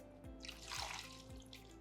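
Water poured over cooked plant material to wash it, a soft steady trickle and splash that is faint and continuous, with low background hum.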